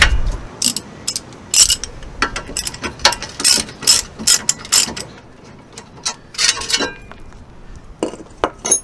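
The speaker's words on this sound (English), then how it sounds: "I'm going to undo the carrier mounting bolts, which are 22mm." A ratchet undoes the 22mm brake carrier mounting bolts on a Citroen Relay long-wheelbase campervan, giving loud, close, rapid clicking bursts in irregular runs with short pauses, plus a few metallic clinks.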